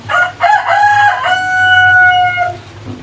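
A rooster crows loudly and close in a long, drawn-out call, with a few short clucks from farm chickens before it and a quiet rural backdrop.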